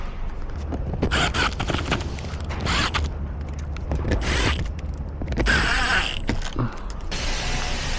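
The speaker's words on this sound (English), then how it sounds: "Put your screws back in." Screws are driven back into the rear A/C cabin filter cover of a 2019-2025 Sprinter van with a ratcheting tool, giving a series of close, rhythmic clicking and creaking bursts with brief pauses between them.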